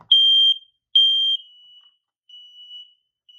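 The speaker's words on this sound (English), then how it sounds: "Second bedroom, smoke detector" Smoke detector in a second bedroom being tested, two loud shrill beeps in quick succession, then fainter tones trailing off, with no talking.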